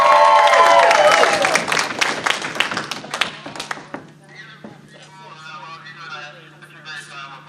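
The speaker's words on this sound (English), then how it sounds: "So give him a warm round of applause" Audience applause at a fan convention's closing ceremony, loud dense clapping at first that thins to scattered claps and dies away within a few seconds, followed by talking near a microphone.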